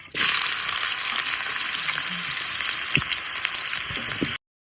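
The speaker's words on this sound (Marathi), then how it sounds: "आता आता घालताय कांदे" Onions frying in a pan over a wood-fired village stove while cooking goat vajari, a steady loud sizzle with faint crackles and occasional stirring taps, continuous for several seconds before cutting off abruptly.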